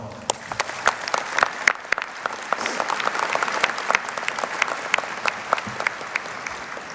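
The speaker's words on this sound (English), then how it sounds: "Can you join me in a round of applause?" A commencement crowd claps for an incoming state representative, many hands in a loud, ragged burst with sharp individual claps standing out, sustained throughout with a faint voice underneath.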